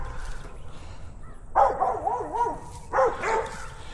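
A fear-reactive German shepherd gives two bursts of whining, yelping barks close by, each followed by wavering whimpers, over quiet outdoor background.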